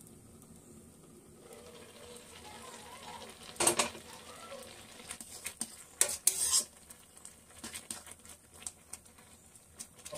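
Grated carrot for gajar halwa is stirred in a pan over the heat with a soft, moist scraping and a low sizzle. Sharper spatula scrapes against the metal stand out at intervals, close by and fairly quiet, with no speech.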